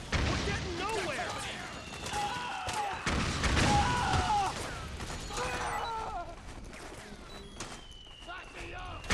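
Gunfire in a battle in the video game Metal Gear Solid 4: Guns of the Patriots, with bursts of shots and crashes throughout, mixed with shouting soldiers' voices.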